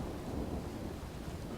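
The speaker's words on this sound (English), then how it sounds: "Ironically, it's raining" Steady rain in the game Skyrim falls as a dense, low, even hiss of rain with a distant rolling rumble underneath, faint and continuous with no voices.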